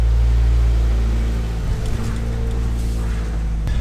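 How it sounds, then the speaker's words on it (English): A 2015 Subaru WRX engine runs steadily at idle, a low, even hum that holds alone throughout with a slight dip in level partway through. "As you can hear, the car is on. Sounds very, very quiet."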